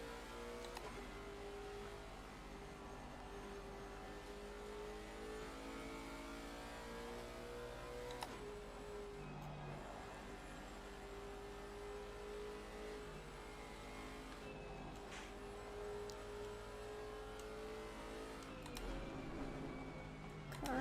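A race car engine in Assetto Corsa Competizione at Bathurst drones steadily with rising and falling revs and gear changes, running continuously at a moderate level with a few brief sharp transients, and no talk.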